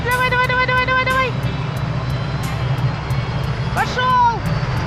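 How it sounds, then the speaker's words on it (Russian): Aircraft engine noise holding at a steady, loud level, a helicopter on the ground in a remote Arctic coastal area of northern Russia around Teriberka, preparing to take off, with whistling tones rising and falling and a voice heard briefly. "Это реально вертолет. Неожиданно. Сейчас будет взлетать, взлетать."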